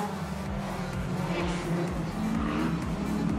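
Race cars speed around the dirt oval at Carina Speedway during a night race, a loud, continuous roar of engines rising and falling as the pack passes.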